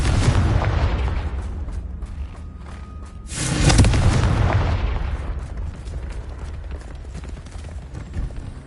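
A Confringo blast spell detonates in a Harry Potter video game, a sudden loud whooshing boom that swells and rolls off over a few seconds amid ongoing game ambience and rumble.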